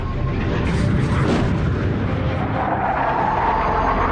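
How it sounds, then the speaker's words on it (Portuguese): A supersonic military fighter jet breaking the sound barrier over Indiana, a loud, deep, rumbling boom that rolls on continuously with heavy low-end roar throughout, no voices. "Talvez a causa do estrondo fosse um avião supersônico quebrando a barreira do som."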